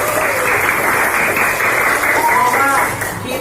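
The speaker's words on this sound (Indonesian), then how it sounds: "Tepuk tangan untuk Aisyah" A class of schoolchildren claps for a pupil in an Islamic religious education lesson, a steady patter of hands with children's voices and talk mixed in throughout.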